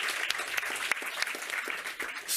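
A small group claps in a quick, scattered round of applause, fairly close and moderately loud, with no voices over it.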